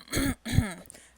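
Two short bursts of throat clearing and coughing, close and fairly loud, separated by a brief pause, with no speech around them.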